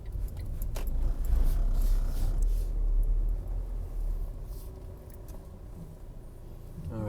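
A car rolls slowly into the Kilkenny Workhouse graveyard, a steady low engine rumble and tire crunch close by, with light rattles and jangles from inside the vehicle over the whole stretch.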